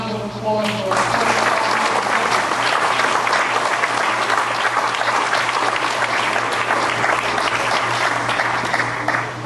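A full, continuous round of applause from the audience at a monthly school board meeting, loud and even throughout, with faint voices mixed in.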